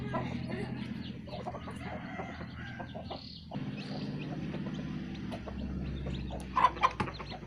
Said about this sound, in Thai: ทั้งแม่ไก่ลูกไก่กำลังจิกกินนะคะ